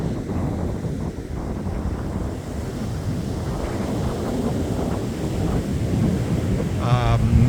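Atlantic Ocean surf and wind on a Long Island, New York beach: a steady, loud roar of breaking waves with gusting wind buffeting the microphone throughout, no voices.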